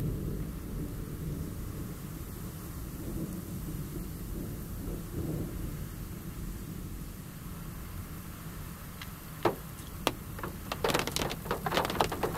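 Thunder from a powerful storm directly overhead near Yass, New South Wales, a long deep rolling rumble over steady rain, followed by several sharp cracks and bursts close by.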